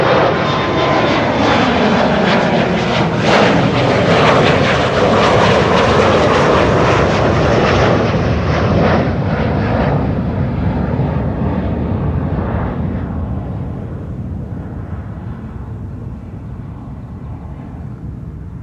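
A Cathay Pacific jet airliner in an 80th-anniversary retro livery departs Amsterdam Schiphol, its loud sustained engine roar filling the first half before slowly fading into the distance.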